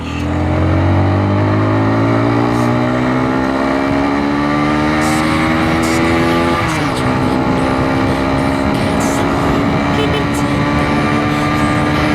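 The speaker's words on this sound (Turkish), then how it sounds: "Ama motorla ilk ışıkta geçtik." A motorcycle riding through city traffic during Ramadan, its engine loud and close with rising and falling revs and a gear shift partway through, accompanied by a steady rush of wind.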